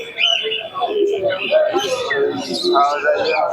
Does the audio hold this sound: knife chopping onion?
no